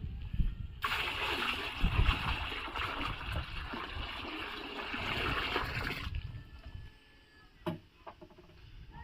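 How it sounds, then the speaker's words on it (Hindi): About 15 litres of water is poured into 5 kg of lime to make homemade calcium, a close, steady gush and splash lasting several seconds that ends abruptly, followed by a few faint knocks. "उसी तरह अगेन हम फिर से 15 लीटर पानी इस चूने में मिलाएंगे।"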